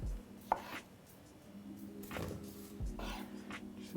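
A knife chops vegetables into chunks on a board for watermelon gazpacho, a few scattered soft cuts and knocks, fairly quiet with low background hum.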